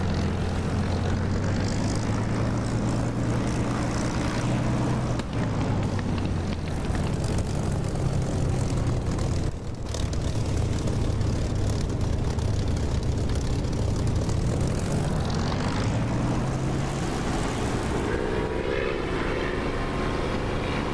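Supermarine Spitfire propeller engine in the DCS flight simulator during takeoff, a loud, steady droning roar that swells and shifts pitch as the throttle comes up, continuous throughout with no talk.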